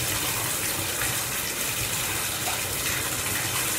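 Tap water gushes steadily into a basin or tub for bathing a puppy, a loud, continuous, close-up rush with no pauses and no talking.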